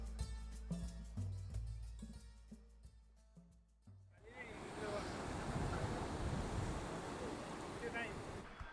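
Ocean surf at Kanyakumari, where three seas meet, rolls in as a broad, continuous roar with wind buffeting the microphone, following a few seconds of music.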